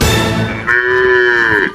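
A cow on a farm lets out one long, loud moo close by, a sustained bellow that rises and then fades away, with no talking over it.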